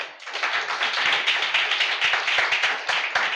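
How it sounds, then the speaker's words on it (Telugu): A church congregation at a live Sunday service claps hands together in a steady, rhythmic beat, a dense wash of many palms sounding close and loud without pause for the whole stretch. "చప్పట్లు కొట్టండి"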